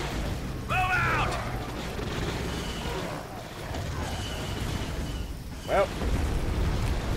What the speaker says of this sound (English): they started shooting at us. We need to shoot back.